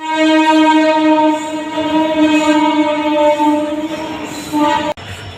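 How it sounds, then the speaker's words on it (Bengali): A through train at a station platform sounds its horn in a long, loud, sustained harmonic blast lasting several seconds before cutting off abruptly, leaving rumbling rail noise behind. "Through train will be passing from platform number 3"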